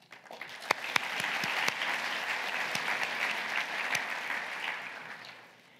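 A large audience at a Fulbright Prize ceremony applauds in a dense, sustained wash of clapping, with some sharper individual claps standing out before it tapers off.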